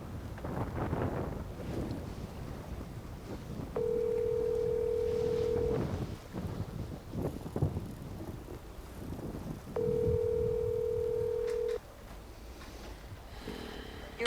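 Two long steady dial tones from a phone call, each lasting about two seconds, ring out over strong wind buffeting the microphone on an open boat on the Arkansas River.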